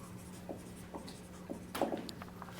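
Marker or chalk writing on a board during a control-theory lecture, with soft scratchy strokes in short rhythmic bursts against a steady low electrical hum, faint and close.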